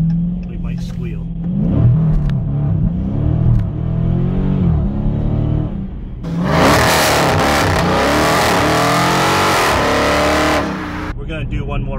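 Dodge Challenger exhaust during a hard acceleration pull on cold ground with wheel spin: a loud, close engine roar that climbs in pitch, drops, then surges louder again before easing off.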